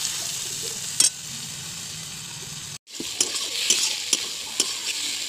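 Bottle gourd shoots fry in a pan, giving a steady sizzle broken by sharp scrapes and clacks of a stirring utensil and a brief silent gap midway, with no voices.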